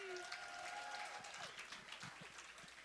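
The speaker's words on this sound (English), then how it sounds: "let's have a round of applause, ladies and gentlemen, for Dr. Wale. A better round of applause" Audience applause at an evening marketing event fills the room at moderate distance, a steady wash of many hands with a voice speaking over it near the start.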